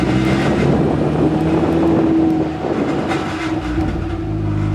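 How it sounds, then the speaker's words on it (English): A 1993 Mazda Miata with a cheap catback exhaust runs steadily, its muffler rattling in a continuous droning metallic buzz that stays loud and unbroken throughout, with no voices over it. "Quick demonstration of the awesome rattle of my exhaust."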